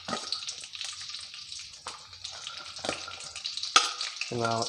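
Green chillies frying in a pan for a brinjal (eggplant) curry, a steady close sizzle and crackle with brief stirring clatters, ending on a short sharp clink.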